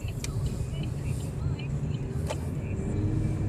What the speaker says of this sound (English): Putting a little pressure on the gas pedal here.